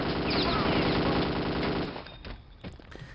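Loud machine-gun fire and rapid gunshots in the video game Kingpin: Life of Crime rattle continuously for about two seconds, then give way to scattered, quieter shots.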